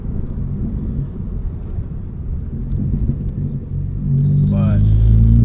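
A Ford Focus MK3 fitted with a SideWinder turbo kit drives along, a steady low engine rumble from inside the car that swells louder near the end with a rising whine.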